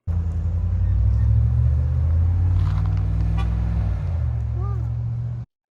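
A 2018 Chevy Tahoe with a muffler-delete exhaust cruising along, its deep, steady engine drone loud and close throughout before cutting off abruptly.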